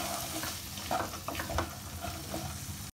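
Soaked lentils and green chilies lightly frying in a pan for dal fry, making a low, continuous sizzle with a few soft stirring scrapes and splashy bursts near the middle, without speech.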